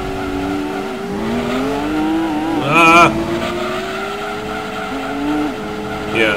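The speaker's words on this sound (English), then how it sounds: "it's burning out in second gear" A fully upgraded race car in Gran Turismo 2 burns out in second gear, its loud screeching tire squeal rising over a droning engine, with a sharper squeal burst midway and another at the end.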